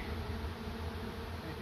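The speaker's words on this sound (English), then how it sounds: "trying to get the bees to move out of the way so I can put the lid down without squishing bees" Honey bees swarm around an open hive box while a colony is moved out of a tree, a dense, steady buzzing hum from many insects close by.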